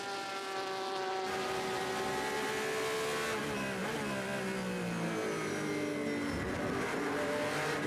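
A 2017 Le Mans 24 Hours race car pulls out of the pits: its engine roars loud and continuously, rising and falling in pitch through gear changes as it accelerates away.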